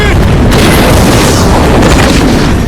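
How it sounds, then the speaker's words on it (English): A clothes dryer left running in a storage room during a fire explodes with a single loud, close boom that fills the whole moment with dense rumbling blast noise. "the fire was caused by a dryer explosion"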